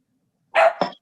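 A dog gives two quick barks in close succession, loud and near, during an online legislative committee session, with no talk over it.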